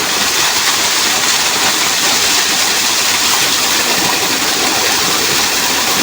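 Vellarimedu waterfall in the monsoon rains, a loud, unbroken roar of rushing water close by, filling the whole clip with no voices.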